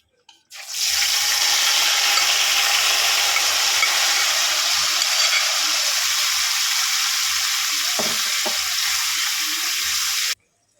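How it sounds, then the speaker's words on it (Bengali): Spice-coated cauliflower meets hot oil with cloves, cardamom, cinnamon and cumin in a pan. A loud, steady frying hiss runs for about ten seconds, with a few soft knocks near the end, and then it cuts off. "সাদা জিরে ফোড়ন দিয়ে দেব ভেজে মশলা মাখানো কপিগুলো দিয়ে দেব"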